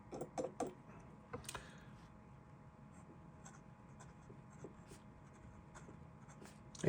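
A Waterman Charleston fountain pen from around 2000, with a stiff fine nib freshly dipped in ink, scratches across paper in light, close strokes with brief ticks and small taps at the start.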